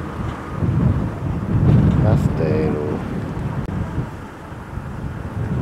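Steady wind rumbles and buffets a microphone throughout at night in La Mancha, Spain, near windmills, a low roaring gust that swells around the middle and stays constant to the end.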